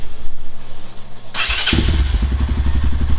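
A Kawasaki MX250 motorcycle engine, fitted with an upgraded battery, cranks with a short whir and catches on the first try, settling into a loud, close, steady idle putter.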